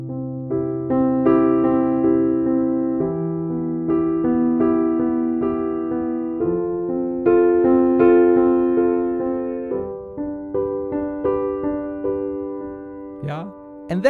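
Simple beginner piano melody with a sustained bass line underneath, notes swelling louder and fading quieter in gentle waves, played alone and clear without talking.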